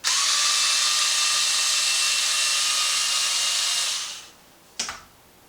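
A power driver spins out the 2 mm lower shock screw on a Traxxas Maxx RC truck, a steady high whir lasting about four seconds before winding down, followed by a short sharp click.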